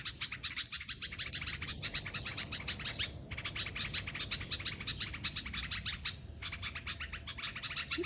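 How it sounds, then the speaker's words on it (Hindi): Bulbuls in a tree on a morning walk chirp in dense, rapid, overlapping bursts, loud and continuous, with a soft cooing note in the background and no one talking. "हैप्पी बुलबुलें"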